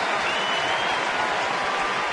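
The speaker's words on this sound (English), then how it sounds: "Deserves a nice round of applause." Sustained applause from a baseball crowd at a Yankees game in Texas, a dense steady wash of clapping filling the ballpark for the whole stretch, close and loud with no break.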